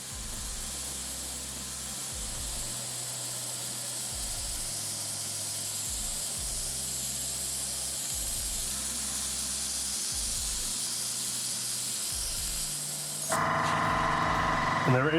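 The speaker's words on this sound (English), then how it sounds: "there it is, my noisy compressor going off" An airbrush compressor cycles in a low, pulsing hum beneath a constant airy hiss from test sprays of paint onto cardboard, then a louder mechanical burst near the end.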